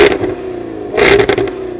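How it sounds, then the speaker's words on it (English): A Jaguar F-Type sports car's exhaust note rises and falls through two loud revving surges, a short one at the start and a stronger one toward the end, over a steady engine drone with no talking. "The note that comes out of that exhaust is unbelievable."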